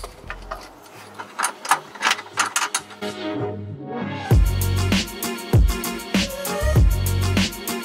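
Ratchet tightening exhaust bolts on a Nismo 370Z during an exhaust install, giving quick rhythmic clicking strokes close by, a short pause, then heavier repeated ratcheting with metallic knocks.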